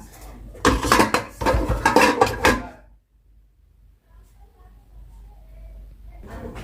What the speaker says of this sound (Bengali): এই যে থালা বাটিগুলো সব মেজে ফেলছিলাম